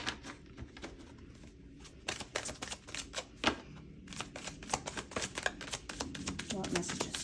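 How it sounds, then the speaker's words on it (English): A deck of tarot cards is riffled and shuffled close up in quick, irregular bursts of papery flicks, while a person talks over the shuffling. "Let's get one more shuffle"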